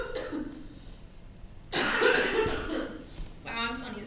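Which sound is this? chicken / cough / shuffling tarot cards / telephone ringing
cough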